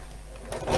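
A domestic sewing machine stitches down both sides of a fabric piece in a short, close burst of rapid mechanical whirring that grows louder toward the end.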